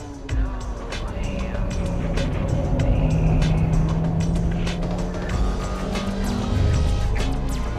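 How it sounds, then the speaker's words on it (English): A Honda Type R car runs at full throttle toward a hairpin on a track, its engine a continuous, loud drone heard from inside, with a voice speaking over it. "I can approach this hairpin at full throttle."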